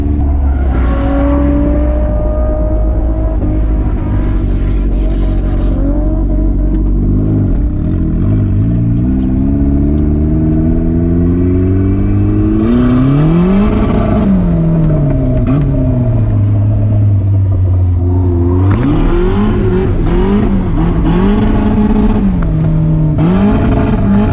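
Turbocharged Mazda Miata drifting on a race track, engine revving loud and close with repeated rises and falls in pitch, bouncing off the limiter, dipping through transitions and climbing again across the whole run.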